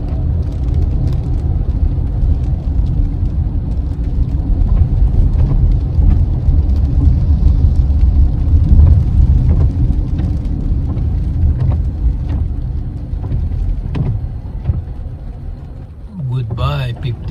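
Rain falls steadily on a street as cars and scooters pass, a constant wash of hiss and low traffic rumble that swells and fades, with a person talking over it.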